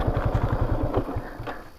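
A motorcycle engine idles on a steep offroad hillside trail, a close, steady low throbbing putter with light mechanical clatter.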